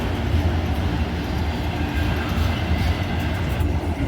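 A CSX freight train of mostly empty cars rumbles past steadily and close, a dense low roar with rattling cars and faint wheel clatter throughout.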